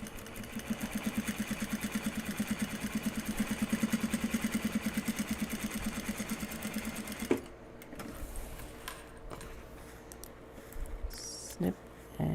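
A sewing machine runs in one rapid, steady rhythmic burst for about seven seconds, top stitching a Japanese fabric bag, then stops, leaving soft handling noises and a voice talking.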